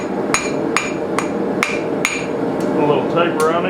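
Blacksmith hammering a letter opener sword, with sharp metallic strikes ringing out at a steady pace, about eight blows close by, then a faint softer rattle at the end.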